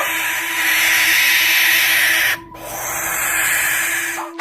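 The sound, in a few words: barn owl call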